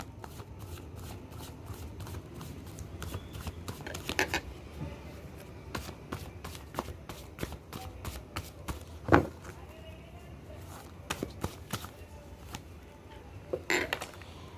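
Tarot cards are shuffled by hand in repeated quick riffles and sharp snaps, close and crisp, with small pauses between bursts over a quiet room background.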